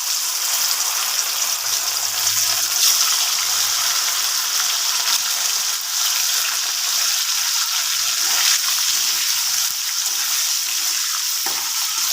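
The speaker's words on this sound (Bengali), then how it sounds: "কড়াইয়ে তেল গরম হয়ে গেছে, এবার আমি আস্তে আস্তে পনিরগুলো ভেজে নেব।" Paneer pieces fry in hot oil in a wok, making a loud, constant sizzling hiss with faint stirring scrapes that holds steady throughout and has no speech over it.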